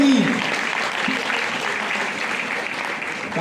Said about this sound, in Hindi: जोरदार तालियां फॉर वेल और प्लांट प्रोटीन